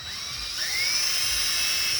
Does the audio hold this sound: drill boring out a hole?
yes